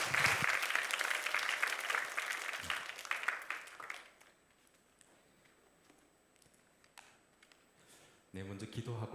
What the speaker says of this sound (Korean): 제가 사랑하는 우리 한태성 목사님 모실 때 저희가 큰 박수로 모시도록 하겠습니다.